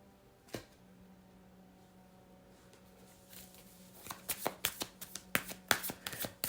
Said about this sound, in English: we're going to get some cards from a different deck here